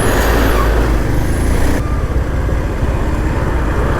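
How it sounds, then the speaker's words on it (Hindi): Heavy road traffic jammed with trucks at Swar Ghat on a ride from Manali toward Lucknow: loud, close engine rumble and idling diesels with a hissing air-brake burst early on, all continuous and without voices. "बहुत ज़्यादा ट्रैफिक है आज"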